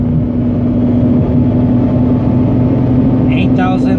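Mazda RX8 rotary engine held steady near 8,500 RPM under light throttle, a loud sustained drone with a strong steady tone and dense buzzing, constant in level throughout with a brief higher chirp near the end.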